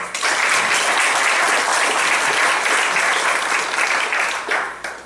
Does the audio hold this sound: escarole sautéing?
no